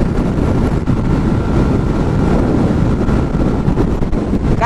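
Steady, loud wind roar buffets the microphone while riding a Suzuki Skydrive Sport 115 motorcycle at speed into a strong headwind, a continuous rushing blast with no voices.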